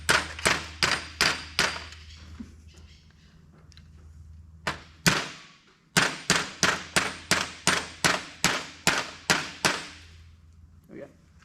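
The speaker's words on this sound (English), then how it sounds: "It looks like a nail, so we'll use the claw hammer." A claw hammer strikes a metal pin in a differential, giving a series of sharp, ringing metallic blows, first in a quick run, then a few spaced hits, then another rapid steady run, close and loud.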